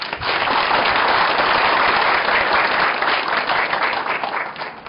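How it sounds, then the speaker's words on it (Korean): A large audience claps loudly and continuously to welcome the foundation chairman at a university president's inauguration ceremony. Dense, even applause lasts nearly five seconds without a break. "엄영석 재단이사장님 박수로 맞이해주십시오"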